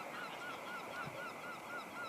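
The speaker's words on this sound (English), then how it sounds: "Seagulls." Gulls calling around the ruins of Flint Castle in Wales, a run of repeated short, evenly spaced cries at moderate distance over a steady outdoor hiss.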